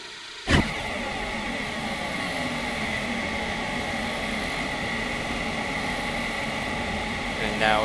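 A car engine in Scrap Mechanic drones steadily and loud throughout, with a sharp bump near the start and another at the end.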